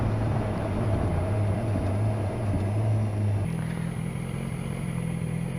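A BMW S1000R motorcycle cruises steadily on a spring commute to work, its engine a continuous low drone with wind rush throughout, holding a constant pitch before settling to a slightly different steady tone partway through.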